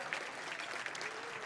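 Brief applause from an audience at a chamber of commerce annual membership gathering, a dense patter of many hands clapping, heard from a distance at moderate volume.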